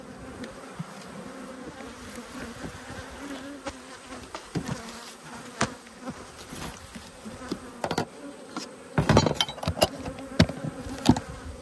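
Honey bees buzz steadily around an open beehive during a hive inspection, a continuous close drone with scattered louder passes and a few handling knocks, no talking.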